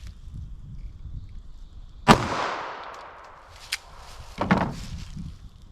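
A 9mm Remington Golden Saber Bonded round fired from a 3.2-inch barrel in a real-world simulation test: one sharp, loud gunshot with a long decaying ring, then a fainter second report about two seconds later.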